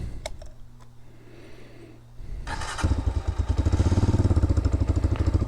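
A 2023 Hawk X 250 motorcycle, its idle circuit richened, sits quiet with a few faint clicks, then fires up and settles into a loud, close, steadily pulsing running note.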